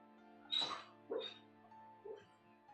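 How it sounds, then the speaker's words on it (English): A sleeping dog whimpers and yips softly in a bad dream, three separate high whiny cries spread over a few seconds, fairly close, over a steady low hum. "That's my dog making weird noises."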